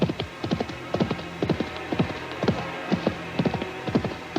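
Horse hooves gallop on flat sand as a radio drama sound effect: a loud, steady, rapid clip-clop rhythm of repeated hoofbeats with no other sounds.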